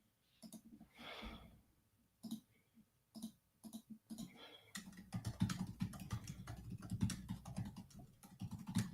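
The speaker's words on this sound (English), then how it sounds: "for whatever reason, when I type a comment in" Computer keyboard typing a comment, a few scattered keystrokes and breaths at first, then a dense run of quick clacking keys, close and quiet.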